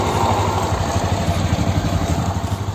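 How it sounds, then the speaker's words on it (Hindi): A 2019 BS4 Suzuki Access scooter idles steadily after a kick start, its small engine giving a close, continuous putter with a light mechanical clatter running through the whole stretch. "एक बार बंद करके ना किक से स्टार्ट करके देखते हैं, देखिए इंजन में कोई चेंज नहीं है"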